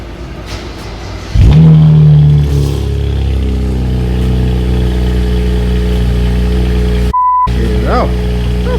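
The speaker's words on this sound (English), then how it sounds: "let me hear what it sounds like." A BMW 335i with the N54 engine and upgraded downpipes starts and idles loudly with a deep, steady rumble, a brief blip at start-up, and a short dropout near the end.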